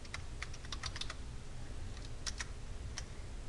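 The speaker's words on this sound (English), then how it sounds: "And then just type in, all your information." Computer keyboard typing while filling in personal details on a webpage form, quick bursts of near key clicks with short pauses between, steady and close over a low background hum.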